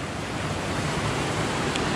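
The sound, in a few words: water of the Strid river bubbling up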